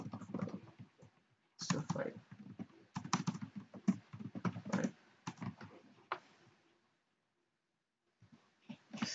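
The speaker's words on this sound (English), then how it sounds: "let's create a file here and just type." Typing on a computer keyboard, in quick irregular bursts of close, crisp clicks with short pauses and a silent gap near the end.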